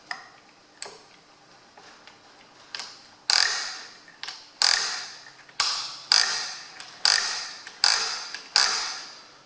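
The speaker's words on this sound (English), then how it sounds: "This handbrake's always been stuck. It's been all seized, but look, it's freed up nicely." Seized car handbrake lever, now freed up, pulled through a series of sharp ratcheting clicks, first a few sparse ticks, then a steady run of about eight loud close clicking bursts roughly every half second.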